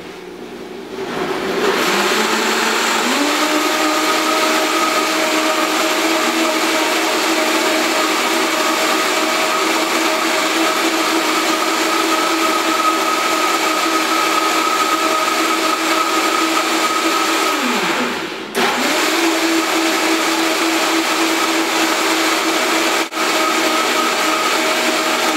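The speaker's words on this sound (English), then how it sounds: "And then we're going to blend and get this coconut yogurt started." A blender whirs steadily for about 25 seconds, mixing coconut kefir yogurt ingredients into a creamy thin liquid, loud and continuous with a brief dip and pitch shift near the end as the motor changes speed.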